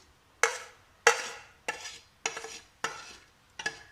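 Soy sauce and spices stirred in a frying pan while making a stovetop pizza: six distinct scraping strokes about half a second apart, close and crisp, each fading quickly with quiet between.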